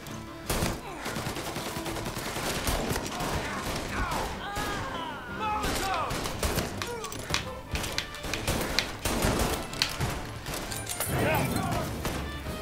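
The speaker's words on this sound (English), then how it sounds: "Shotgun." Repeated heavy gunshots from a shotgun in a shootout in Mafia: Definitive Edition, sharp loud blasts scattered through a chaotic firefight, with a person talking over the action.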